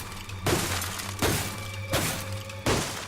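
Ice shatters in the BioShock video game in four sharp, crashing bursts spaced about three-quarters of a second apart, each with a short glassy tail, loud and without speech.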